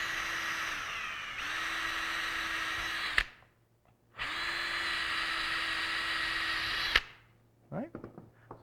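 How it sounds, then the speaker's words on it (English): A power drill bores holes through a Kydex sheath held in a drill guide, with two loud, steady whining runs of several seconds each, separated by a short pause and followed by a few faint handling clicks. "I can drill these other 2 holes without really worrying about it walking around."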